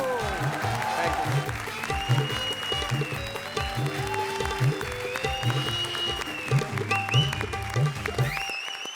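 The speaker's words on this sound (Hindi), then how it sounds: "जोरदार तालियां" Studio audience applauding on a Hindi television comedy show, Comedy Circus Ka Jadoo, a steady dense wash of clapping lasting several seconds with music playing underneath.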